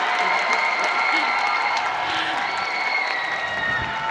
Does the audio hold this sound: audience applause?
yes